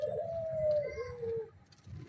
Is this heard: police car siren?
no